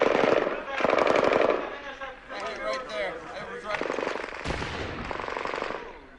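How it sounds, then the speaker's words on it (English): A burst of mortar and heavy gunfire erupts in a combat zone during the battle for Marjah, loud sharp blasts and rapid cracks in clusters, with voices shouting in between. "That's mortar. That did not sound good."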